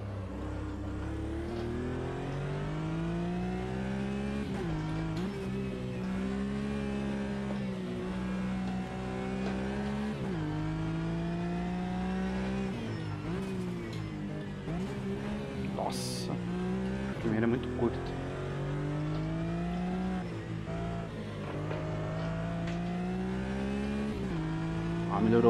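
Porsche Cayman race car in Automobilista 2, engine droning and revving through repeated rises and drops in pitch as gears shift, with a brief tire squeal partway through, steady and fairly close.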